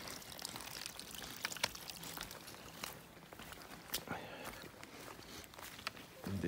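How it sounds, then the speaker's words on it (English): Rainwater running down a rocky mountain hiking trail in Maine's 100 Mile Wilderness on the Appalachian Trail, a faint steady trickling and pouring wash broken by occasional crunching footsteps. "trail once again has become the water course for the mountain."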